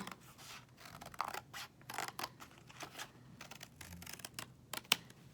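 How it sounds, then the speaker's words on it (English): Scissors snip through cardboard along a drawn diagonal line while cutting a square into tangram triangles, giving a run of short, quiet, irregular crunching cuts with no talk. "I'm just going to cut along that line"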